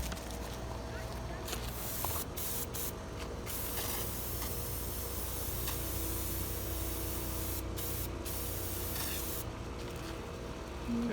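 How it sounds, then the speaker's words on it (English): Brake cleaner sprayed from an aerosol can onto an engine oil leak, several short hissing bursts with pauses between them, up close over a low background hum. "First thing we're going to use is this brake cleaner here."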